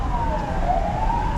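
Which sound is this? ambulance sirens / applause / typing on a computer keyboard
ambulance sirens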